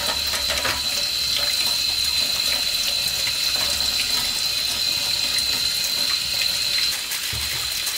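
Tap water runs steadily into a kitchen sink while vegetables are rinsed for pot-au-feu, a continuous close hiss with faint handling splashes, no talk.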